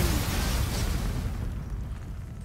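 A loud explosion in The Walking Dead Telltale video game, a dense rumbling blast that starts at full force and slowly decays with no voices.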